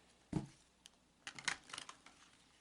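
A deck of oracle cards being shuffled up close, faint quick riffles and soft taps in short bursts, one sharp flick followed by a quicker flurry of light card clicks.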